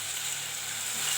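Onions and tomatoes with salt sauté for kuzhambu, giving a steady close sizzle that holds evenly throughout, with no voices.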